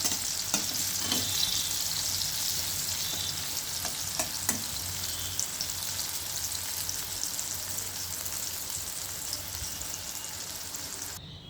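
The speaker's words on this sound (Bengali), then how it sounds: "কুমড়োগুলো এরম করে লাল লাল করেই ভেজে নিতে হবে।" Steady crackling sizzle of pumpkin pieces frying in hot oil until reddish, with a few sharp clicks and scrapes of stirring, close by and continuous.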